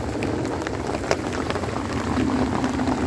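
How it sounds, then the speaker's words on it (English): Heavy rain pours down beside a flooded river at a carp fishery, a dense steady hiss of drops hitting water and surfaces, close and continuous with no talk. "that rain's coming, and it's now bucketing it down"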